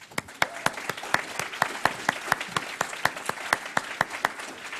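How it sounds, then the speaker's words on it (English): A seated audience at a talk on police corruption claps for people standing, a steady round of applause with prominent rhythmic individual claps standing out near the front, continuing throughout. "give those people standing up a round of applause"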